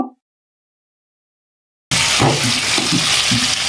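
Onion and garam masala fry in a pan: after nearly two seconds of silence, a loud close sizzle starts abruptly and continues with soft stirring scrapes, with no talking.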